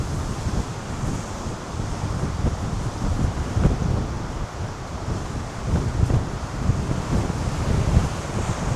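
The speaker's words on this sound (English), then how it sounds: "I'm hoping this mic is doing a good job because it's very windy." Strong wind buffets the microphone continuously on the coast of Krk, Croatia, in autumn, a heavy low roar with gusts rising and falling, and surf-like rushing in the background.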